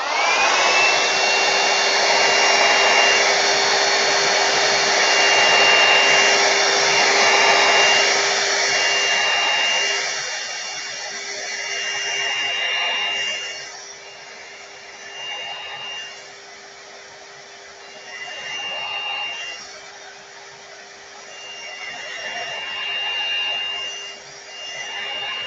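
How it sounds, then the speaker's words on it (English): A hairdryer blows steadily to dry a painting of a sunset with a boat on water, a loud continuous whirring whine with a constant tone that later dips and swells as it is moved about. "I could use the hairdryer because that will dry it quickly"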